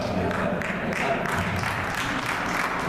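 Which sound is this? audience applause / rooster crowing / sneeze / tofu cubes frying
audience applause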